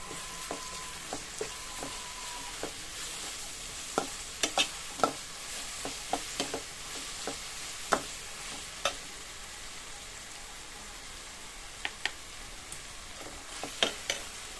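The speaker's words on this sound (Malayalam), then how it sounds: "ഇതിൻ്റെ പച്ചമണം മാറുന്ന വരെ ഉള്ളി ചേർത്തിട്ട് ഒന്ന് വഴറ്റിയെടുക്കാം" Onions with ginger garlic paste sauté for a Thalassery chicken curry, a soft steady sizzle broken by frequent sharp clicks and scrapes of a spoon stirring the pan, with no voices.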